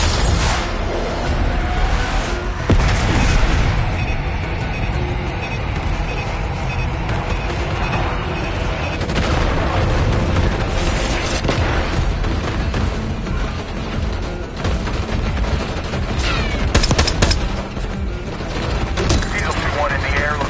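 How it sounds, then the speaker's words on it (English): An airstrike's bombs pound the ground in Call of Duty Black Ops 6, a dense, continuous roar of rumbling explosions and booms lasting many seconds, with voices at times over the din. "Bombs away."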